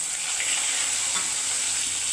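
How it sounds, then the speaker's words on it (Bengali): Rui fish sizzles in hot oil in a pan, a loud continuous bright frying hiss that stays steady throughout without any voices. "দেখো গাঙ্গি মাছটা কম সময়ের মধ্যে ভাজা হয়ে গেছে"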